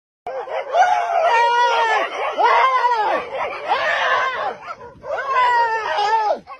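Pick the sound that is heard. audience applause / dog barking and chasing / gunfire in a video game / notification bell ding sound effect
dog barking and chasing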